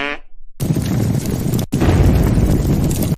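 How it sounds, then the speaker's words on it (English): A cartoon explosion sound effect: two loud, broadband booming blasts, one after the other, with a brief gap between them. "Explosion fart attack."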